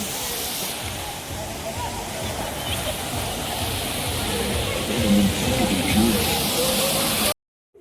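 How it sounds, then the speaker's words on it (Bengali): Water pours down an artificial rock hill at the Nicco Park amusement park, a steady, full rush of falling water heard up close, with faint voices in the background, before cutting off abruptly. "এখানে ঝর্নার জল পড়ছে পাহাড়ের মধ্যে দিয়ে"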